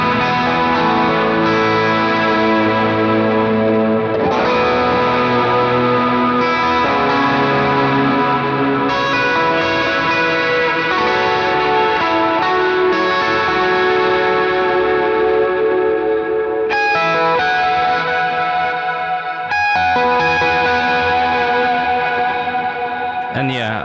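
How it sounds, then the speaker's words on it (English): An electric guitar on the bridge pickup through a Line 6 HX Effects worship pedalboard, set to a second gain stage with warm reverb: loud driven chords ring out with chorus and echo, re-struck every few seconds. "the second snapshot that I have here is the second gain stage with some warmer reverb here that I have"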